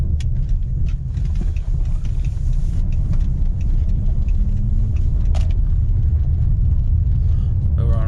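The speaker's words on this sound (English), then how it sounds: "So we're gonna hit this gravel road." A Chrysler 300 rolls along a gravel road, a steady heavy low rumble of tires and engine filling the cabin, with scattered crackles and ticks from stones over the whole stretch.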